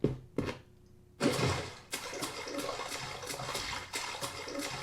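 A rushing, splashy water burst from a top-down action adventure video game plays, with a fainter splash first, then a louder sustained watery wash carrying on with repeated pulses.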